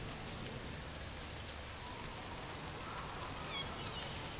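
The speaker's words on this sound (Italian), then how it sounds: "Soprattutto la pioggia fa laggare, credo." Rain in the video game Wakfu, a steady, even hiss of falling drops that runs unbroken throughout at a low level with no talk.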